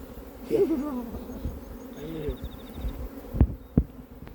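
Honey bees buzz steadily at close range around a hive, with a few short voice fragments and a couple of sharp knocks near the end.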